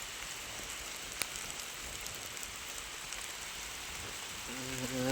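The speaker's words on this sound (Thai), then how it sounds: "ในที่สุดฝนกลับมา" Soft, steady rain falling outdoors, a faint continuous hiss with a sharp tick near the start, and a brief tonal sound creeping in at the end; no one speaks.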